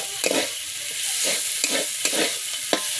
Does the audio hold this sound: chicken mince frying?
yes